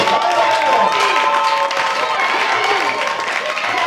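A church congregation applauding and cheering during a Sunday service, with dense sustained clapping and crowd noise that blends with a voice speaking over amplified sound throughout.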